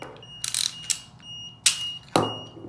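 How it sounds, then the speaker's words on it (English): A shrill electronic alarm from a shaken padlock chirps in short bursts over a thin steady beep, with brief rattling noises between the blasts. "it will immediately enable the alarm so that you can shake it and test it"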